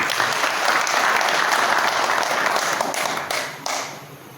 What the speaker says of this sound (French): Je vous demande de l'applaudir encore.